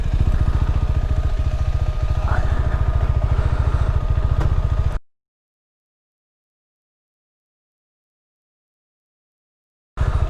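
A KTM 390 Adventure single-cylinder motorcycle being ridden in extreme weather, its engine a steady close buzzing drone for about five seconds, then the sound cuts to silence before returning briefly at the end.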